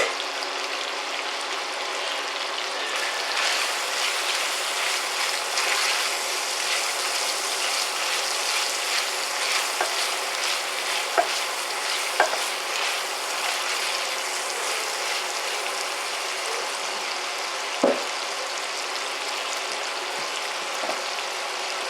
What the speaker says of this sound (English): We're going to throw in our carrots and onions. Get those cooking, softening